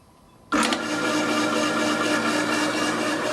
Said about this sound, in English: The motor does jump a bit